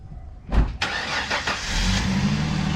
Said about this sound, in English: I figured I'd show Bronte how good of a burnout it does.